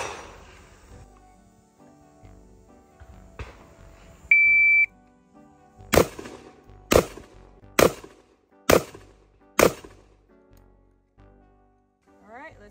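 A sharp electronic beep from a shot timer sounds once, followed by five loud handgun shots spaced about a second apart in a quiet setting, fired at a target 10 yards away during a shooting drill.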